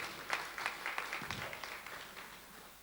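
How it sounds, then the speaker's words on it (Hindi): Audience at an Urdu poetry mushaira clapping, a burst of distinct hand claps that quickly thins and fades, fairly faint and distant. "एक बार अपने लिए ज़ोरदार तालियां बजा दीजिए"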